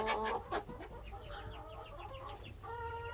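Golden laced hens on a rainy day, soft overlapping clucks and murmuring calls from several birds nearby, fairly quiet over low background noise.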